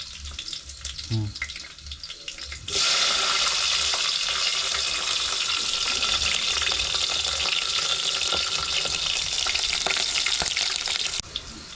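Chopped onion tipped into hot oil already holding garlic and green chillies, giving a loud, steady sizzle that bursts in suddenly after a quieter start and fries on evenly before cutting off near the end.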